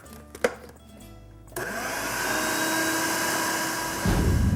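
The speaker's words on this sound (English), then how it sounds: "add the cilantro, the parsley, and the onion to the blender and process that until it's a nice paste" A kitchen blender whirs steadily after switching on, processing cilantro, parsley and onion into a paste for falafel, loud and continuous, with a brief clatter before starting and a heavier surge near the end.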